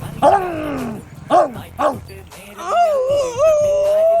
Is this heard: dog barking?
yes